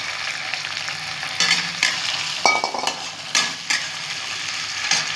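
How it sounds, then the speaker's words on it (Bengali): Onions tossed into hot oil for chicken kasha sizzle and spit steadily, with a sharp burst as they hit the pan and intermittent scraping stirs from a spoon against the pan, close and loud. "তেলটা গরম হয়ে গেছে, এখন আমি পেঁয়াজগুলো দিয়ে দেবো।"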